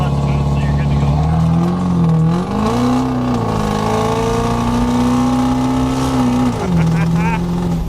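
A 700-horsepower 6.0 Powerstroke diesel truck engine revs while driving, a loud, sustained drone that rises and falls in pitch as it pulls and eases off, heard close, with speech at times over it.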